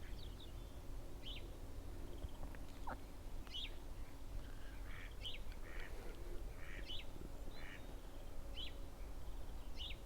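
A moorhen near bread at a pond gives short, sharp, high calls, repeated in scattered bursts. The calls sit faintly over a steady outdoor hiss.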